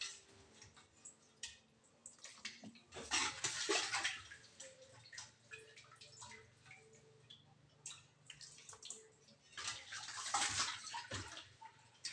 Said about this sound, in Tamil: இப்போ நான் வாஷ் பண்ணதை வந்து நல்லா தண்ணியெல்லாம் புழிஞ்சிட்டு இந்த பாத்திரத்துக்கு வந்து நான் மாற்றிக்கிறேன்